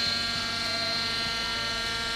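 A radio-controlled model helicopter flies during basic training, its rotor and small motor giving a steady whining buzz with layered harmonic hum and a faint rhythmic chop, continuous and fairly close throughout.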